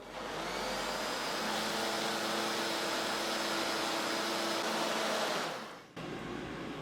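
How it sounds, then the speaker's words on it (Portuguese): An air fryer preheating before baking a simple cornmeal cake gives a steady, loud fan-like whoosh that runs unbroken for several seconds, then briefly dips and resumes near the end. "Vocês estão escutando um barulho que eu já estou pré-aquecendo a minha air fryer, tá?"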